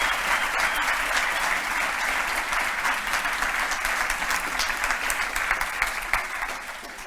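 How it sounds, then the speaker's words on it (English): A crowd applauds steadily at a live business presentation, dense clapping holding at an even level for several seconds with scattered sharper claps near the end. "I please would appreciate a big round of applause to me."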